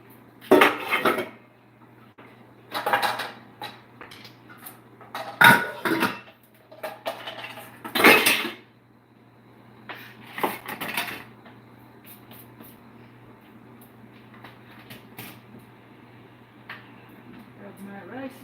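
A utensil scraping and clanking against a cooking pan as shrimp are stirred in a home kitchen, loud bursts of metallic scraping in irregular clusters, close by, with quieter gaps between strokes.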